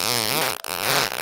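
A short burst of fart noises, two buzzy sputtering blasts separated by a brief gap, close and fairly loud.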